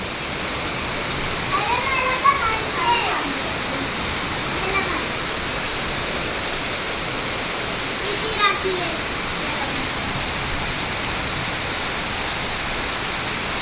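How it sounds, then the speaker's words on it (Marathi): A waterfall pours near a Ganpati temple in the rain as a steady, dense rush of water. Faint voices are heard briefly underneath. "गणपतीच्या मंदिरात धबधबातो वाहतो किती सुंदर आकाशातून पाऊस पडतो"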